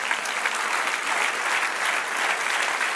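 A church congregation claps steadily for the Lord after a sermon, a dense, even wash of applause from many hands lasting a few seconds at moderate distance, with no voices on top.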